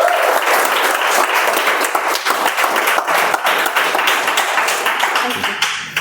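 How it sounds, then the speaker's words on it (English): Audience applause at a speech contest, dense sustained clapping from a crowd, loud and steady for several seconds before easing slightly at the end. "Once again, round of applause for our"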